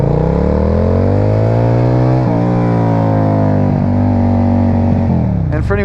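A Suzuki Marauder bobber motorcycle engine revs loud and close, its throaty tone rising and falling through several throttle changes over a steady rumble.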